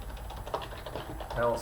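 Keys clatter on a computer keyboard as text is entered into a spreadsheet cell, a quick run of light close taps, with a person's voice partly over it.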